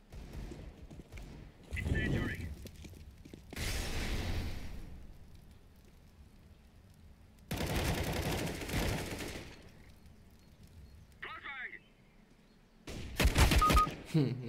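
Gunfire in the shooter game CS:GO arrives as separate loud bursts of shots, with quiet stretches between them and a sharp volley near the end. Someone speaks German in between.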